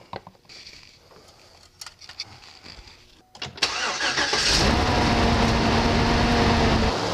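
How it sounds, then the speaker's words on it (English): A 2009 Saab 9-7x with a dead DOD lifter, treated with Seafoam and Marvel Mystery Oil, is cranked after some quiet clicks and handling noises, then fires up into a loud, steady idle close by. "let's cork her, start her, and let her warm up."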